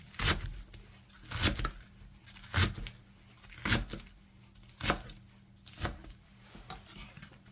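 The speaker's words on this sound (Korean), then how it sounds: "대파도 길게 썰어서 준비해주고" Steady, evenly spaced knife strokes slicing through green onion, about seven crisp cuts with soft scraping between them, close up with no talking.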